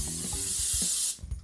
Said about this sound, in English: get a little bit of cooking spray down